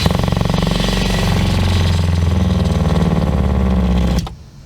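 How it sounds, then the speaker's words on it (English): An RV fresh water pump running with a loud, close, rapid pulsing buzz that cuts off abruptly near the end, leaving near silence. "once I push this trigger, you should hear the pump"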